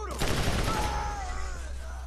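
Gunfire in the video game Borderlands, a loud, close burst of several rapid shots that rings out and fades over about two seconds.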